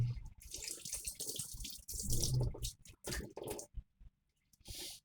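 Tap water running and splashing at a sink while tuna is washed by hand, a steady broadband rush broken by brief gaps and squishy handling sounds, close up, with no talk.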